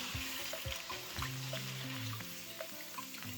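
Plantain chips fry in hot oil, giving a soft, continuous crackling sizzle with scattered small pops, quiet and close, and no talking.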